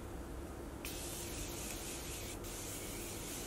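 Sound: setting spray being sprayed over makeup

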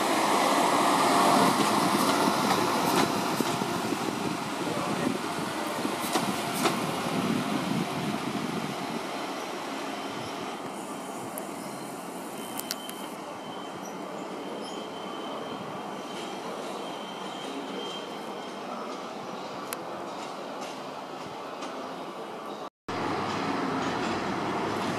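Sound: passenger train departing station platform

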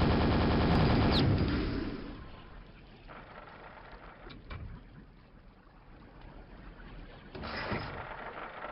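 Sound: nail gun firing in the video game Quake

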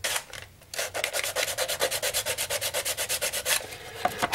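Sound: beveling the edge of styrene for a 1:20.3 scale railcar

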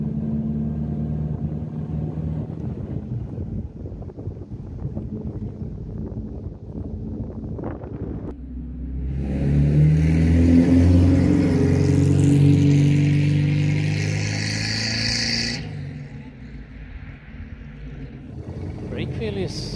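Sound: Bentley Speed Eight 6½ Litre vintage car driving

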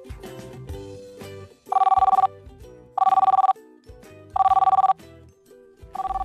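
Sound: telephone ringing

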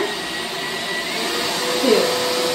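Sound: portable mini work vacuum running

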